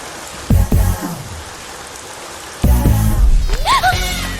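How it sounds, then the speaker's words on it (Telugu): Rain falling in a Telugu action comedy film scene, a steady hiss with heavier bursts of low rumble and a rising tonal sweep near the end, fairly loud with no talk. "వర్షం పడుతుంది"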